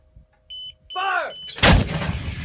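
Artillery gun fired on a shouted command, one sudden heavy blast right after a brief beep and a cry, with a rumbling crack that trails away, loud and close.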